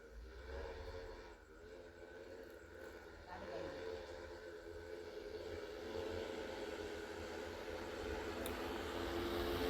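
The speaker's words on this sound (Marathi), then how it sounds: "सक्षर पिंपरी ह्या ठिकाणचं हे ड्रोन आहे" A steady motorized buzz of an agricultural spraying drone hovering over a pigeon pea field, droning continuously and growing slightly louder, with people talking faintly underneath.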